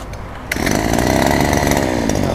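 A used Robin brush cutter engine revs up hard under throttle, a quieter idle jumping after half a second into a loud, steady, buzzing high-rpm drone that holds to the end.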